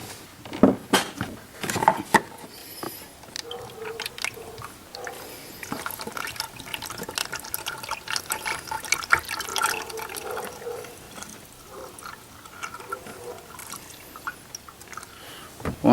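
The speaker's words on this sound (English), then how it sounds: "So we're going to add the oil now. The full jug first." Engine oil pours from a jug into a 2009 BMW X6 E71 35i during an oil change, a close, uneven glugging stream of liquid with irregular splashes and bumps over several seconds.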